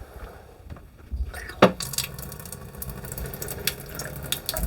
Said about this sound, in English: See water's running.